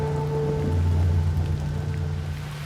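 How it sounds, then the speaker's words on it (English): Steady rain falls on an island survival camp, a dense continuous hiss close around the listener with a low rumbling undertone and no voices. "Rain again."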